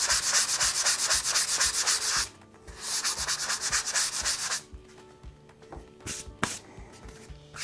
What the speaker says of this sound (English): So we'll just sand it with this sanding sponge here.